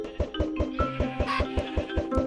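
Chickens cluck in the Minecraft video game, a steady run of about a dozen evenly spaced, clipped clucks at moderate volume with no talking.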